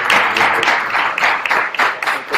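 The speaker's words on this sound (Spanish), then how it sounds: "despidamos al senador Robledo con un gran aplauso" Applause from a live audience at an agricultural expo gathering in Colombia, sending off a senator: loud, close clapping in uneven surges and dips across a couple of seconds, with no speech over it.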